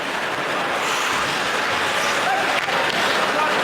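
Arena crowd roaring at an NHL hockey game between Edmonton and Calgary after a big body check: a dense, loud, sustained wash of cheering, with voices blended throughout.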